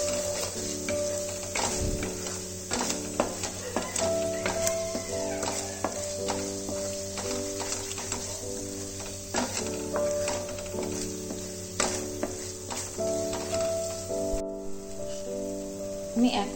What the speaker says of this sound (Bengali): মশলাটা আরও কিছুক্ষণ ফ্রাই হবে